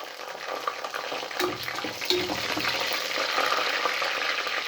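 Onions and green chillies sizzle and crackle steadily in a hot pan, with a few stirring scrapes, close and fairly loud with no talking.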